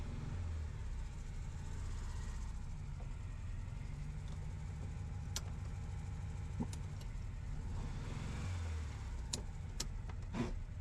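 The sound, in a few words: 1968 VW Beetle engine reversing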